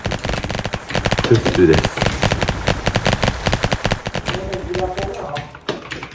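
Rapid automatic gunfire in a video game, dense bursts of shots rattling continuously and loudly, with someone talking briefly over it.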